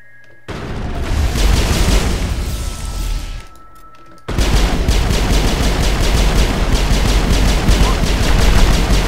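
Robots with machine guns open fire in Mass Effect, a dense rapid rattle of automatic gunfire that runs loud and continuous, breaks briefly, then resumes with sharp repeated shots.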